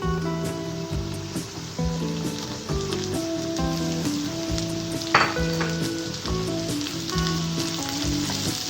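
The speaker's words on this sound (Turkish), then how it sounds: "Şimdi biraz pazılarımla beraber soğan sarımsakları da kavuruyorum." Steady sizzling of Swiss chard with onion and garlic frying in a pan, with a continuous crackle and occasional stirring scrapes close by, no voices.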